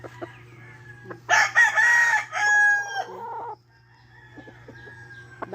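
A backyard rooster lets out one loud, drawn-out crow close by among the chickens, with scattered clucks and small calls before and after over a steady low hum.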